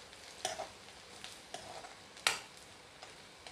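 Onion and green chili cooking in a pan, a quiet, low sizzle broken by a few brief spatula scrapes and clicks, close by with no talking.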